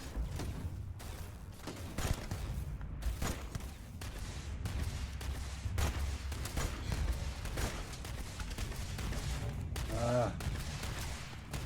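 Gunfire from the space game Starfield comes as scattered sharp shots and thuds, some in quick bursts. Someone speaks French briefly over the combat sounds.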